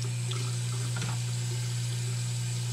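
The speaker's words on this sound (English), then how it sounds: "So now I'm just starting to clean up and rinse things out." Tap water runs steadily into a sink while juicer parts are rinsed after making celery juice. The flow is a continuous, even hiss with a brief splash partway through.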